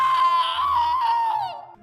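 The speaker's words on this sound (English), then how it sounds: "I hear a blood-curdling scream and I run over to see what happened." A single loud, sustained high-pitched scream from a child in an animated sibling fight, wavering and then trailing off at the end.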